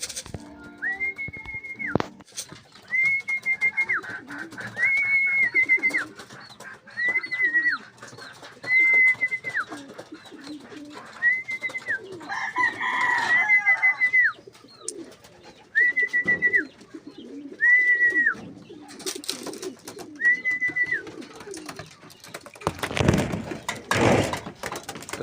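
A pigeon calls in repeated, evenly spaced whistled phrases over outdoor background noise, with a brief loud clatter near the end.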